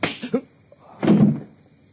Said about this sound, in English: I caught a fist flush on the point of my chin.